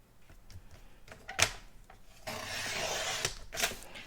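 Fresh Freesia cardstock is trimmed to size on a paper cutter, giving a close, soft sliding rasp with a few sharp knocks and a longer steady cutting swish, with no voices.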